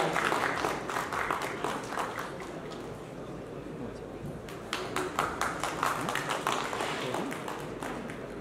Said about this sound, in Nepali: उहाँलाई जोरदार तालीका साथ स्वागत गराउँछु